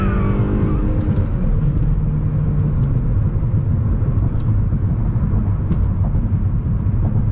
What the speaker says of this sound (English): I'm gonna give it full load here.